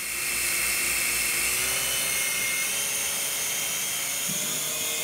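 A cheap toy helicopter bought online spins up and takes off, its small rotor and motor giving a steady, loud high-pitched whine throughout, close by.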